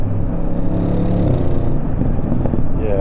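A 2024 Audi RS6 Performance Avant held in third gear at about 4,000 RPM gives a steady, deep engine drone, loud and close throughout, with a slight change in tone toward the end.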